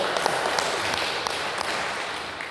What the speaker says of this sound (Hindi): इनके लिए जोरदार ताली बजा दीजिए